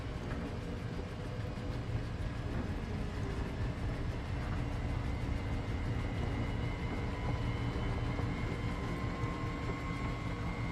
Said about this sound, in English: Sounds like an airplane about to take off.